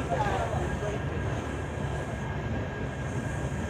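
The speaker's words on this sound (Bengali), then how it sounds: "চম্বল এক্সপ্রেস গয়া 2 নম্বর প্ল্যাটফর্ম থেকে ডিপার্ট করে গেল আর এক্সেলেট করে নিয়েছে একদম" Aboard the 12176 Gwalior–Howrah Chambal Express as it leaves platform 2 at Gaya, a steady low rumble and rolling rail noise continue, close and moderately loud, with a faint voice murmuring in the background.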